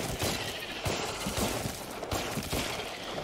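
Repeated gunshots in the After the Fall VR co-op game, a steady run of sharp cracks at moderate level with a busy, reverberant game mix around them.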